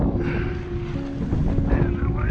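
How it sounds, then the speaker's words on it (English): A sailboat under a full set of sails cruises at around five knots, with steady wind rush and water wash against the hull, and faint tonal hums underneath. "We are sailing around 4 to 6 knots"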